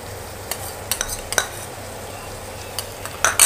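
Spoon clinking and scraping as spice powders are stirred into green chutney in a pan for a pea and mushroom curry, a steady low sizzle beneath with sharp metallic taps scattered throughout.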